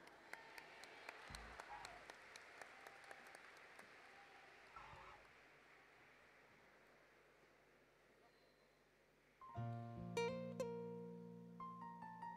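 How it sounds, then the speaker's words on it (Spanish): Faint applause from a distant crowd at the Bajada de la Chinita procession gradually dies down, then music starts up loudly. "Un gran aplauso a nuestra madre."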